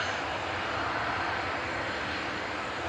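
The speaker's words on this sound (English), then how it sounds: "That was the plane coming in from Boa Vista." An airliner arriving at Manchester Airport from Boa Vista gives off a steady broadband engine roar, distant but constant throughout, with no voices.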